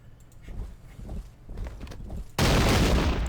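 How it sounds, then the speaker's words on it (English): A massed musket volley bursts out loud and sustained near the end in a video game battle at Brandywine Creek during the American Revolution, fired point blank at grenadiers, following quieter shuffling battlefield noise. "I'm just gonna open fire point blank at the grenadiers"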